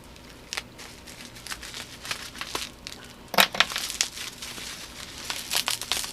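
A securely wrapped gift package is torn open by hand, with bursts of crinkling and crumpling paper and plastic that come in irregular rustles, louder and denser in the second half, close up with no speech.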